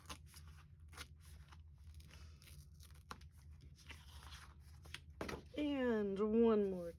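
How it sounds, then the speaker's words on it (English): Paper being torn by hand for a mixed media art piece, a few short ripping bursts over a low room hum, with a person's voice rising clearly near the end. "It was easier to tear this way,"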